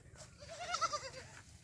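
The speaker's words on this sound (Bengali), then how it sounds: "এগুলো সব ব্ল্যাক বেঙ্গল ছাগল।" A Black Bengal goat gives a single short, wavering bleat, faint and at a distance out on an open grazing field.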